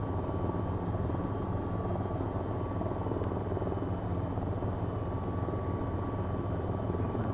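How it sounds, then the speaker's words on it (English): An AH-94 attack helicopter in the VR flight game VTOL VR gives a loud, continuous rotor and engine drone throughout, steady and close, with no talking. "there's a helicopter trying to land on the back of you"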